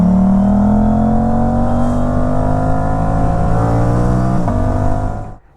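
Close, loud engine drone from a motorcycle wearing a GPR Ghost Inox full-system exhaust with the DB killer installed, holding a steady throaty rumble with gently rising pitch, then cutting off abruptly at the end.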